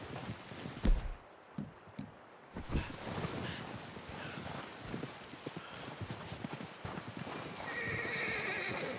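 A horse in a video game neighs loudly, then trots with steady clip-clop hoofbeats, close and clear.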